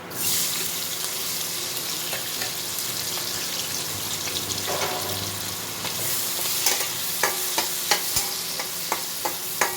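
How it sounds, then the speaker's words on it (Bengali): Chopped onion frying in oil in a pan with whole cumin seeds and bay leaf for chicken kosha, a continuous close sizzle with soft stirring scrapes and sharper spatula taps toward the end. "পেঁয়াজটা লাল করে ভেজে নিতে হবে।"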